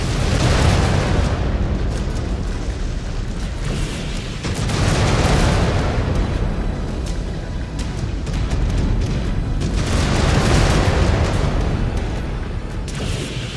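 Incoming missiles explode in MechWarrior 5: Clans, a dense, loud barrage of booming blasts that swell and recede in waves, with continuous rumbling between the heavier bursts.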